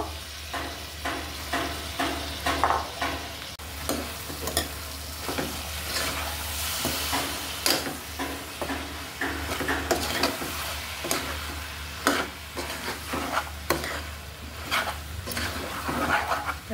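Turmeric flowers and ginger flowers frying with potatoes and prawns in a pan, a steady close sizzle broken by repeated scraping stirs at an uneven rhythm.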